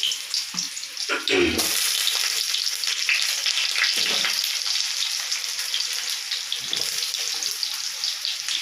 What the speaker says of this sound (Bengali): আলুগুলোকে এবার ফ্রাই করবো ভালো করে